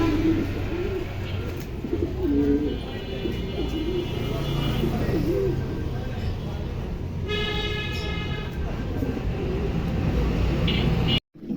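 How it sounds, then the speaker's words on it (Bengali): Caged pigeons at a seller's stall coo repeatedly nearby, with horn-like toots and traffic rumbling steadily in the background. "খুবই চমৎকার কবুতর, 4 জোড়ায় কবুতরই মার্শাল্লাহ।"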